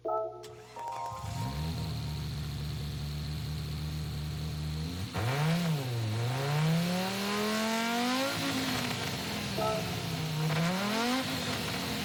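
A video game 1987 Audi Sport quattro S1 Pikes Peak rally car engine cranks and fires up, idles steadily, then revs up and down several times, loud and close, with no talking.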